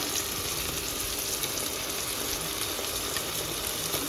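Ginger and garlic sautéing in a pan for a mutton gravy, a steady, even sizzle and crackle of frying that holds without a break throughout.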